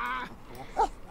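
A dog in The Sims 4 gives a brief, moderately loud bark or yelp near the end, set against soft game ambience.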